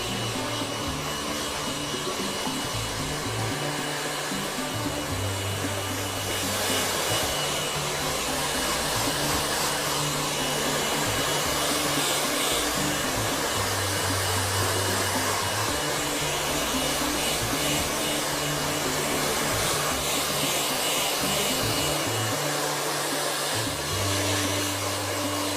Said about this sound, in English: you really want to sort of rough it up with your dryer as well